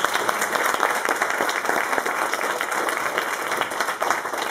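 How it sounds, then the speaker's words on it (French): A room full of people clapping steadily at a live show, dense and sustained applause at moderate volume from an audience. "Je vous prie d'applaudir."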